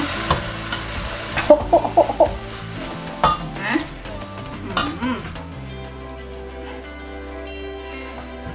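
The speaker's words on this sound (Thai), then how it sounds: "ผัดแล้วนะมาใส่ผักกันเลยนะคะ" Bitter gourd shoots and vegetables sizzle in a hot wok with a steady crackle, while a utensil clatters and scrapes against the pan in quick bursts; a voice briefly speaks.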